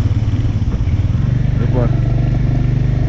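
Motorcycle engine running steadily during a ride on a Sikkim road between Ravangla and Pelling, a continuous low drone with a voice speaking briefly over it.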